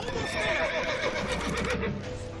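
A horse in the Witcher 3 video game whinnies loudly in one long, wavering neigh that rises and falls over a steady bed of game sound.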